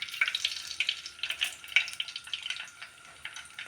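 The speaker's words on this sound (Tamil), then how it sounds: "கடுகு நல்லா பொரிஞ்சு வரட்டும்." Mustard seeds crackling and popping in hot oil in a pan while tempering for mint rice, a dense, continuous spattering of sharp pops close by, with no talk over it.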